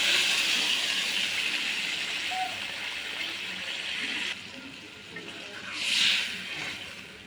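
Broth poured into a hot pan of frying rui fish curry with potato and eggplant, a loud sizzling hiss that drops midway and swells again briefly near the end.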